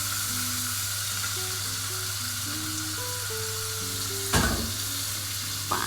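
Small fish frying in a pan on a home gas stove, a steady close sizzle with a low hum underneath and faint tonal beeps, broken near the end by a sharp scraping clatter.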